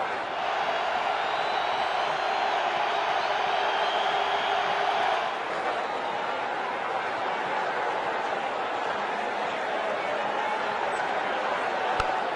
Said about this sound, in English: The crowd has gone mad.